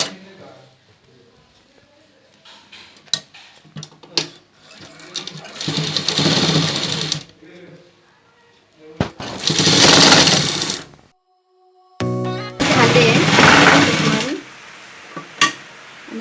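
A sewing machine stitching a plain salwar waistband casing whirs in three loud bursts separated by short pauses, with quieter handling clicks between runs.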